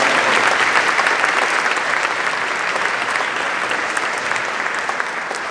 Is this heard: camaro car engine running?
no